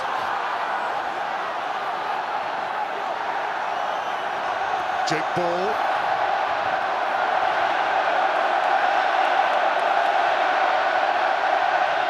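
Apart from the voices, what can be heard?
rugby stadium crowd cheering, Wales vs England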